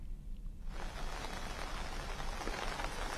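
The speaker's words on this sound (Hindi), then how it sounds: "अब भी बारिश जारी है" Steady rain falls in Lucknow, a dense, even patter that picks up sharply after a quiet first moment and then holds constant, close by and fairly loud with no voices.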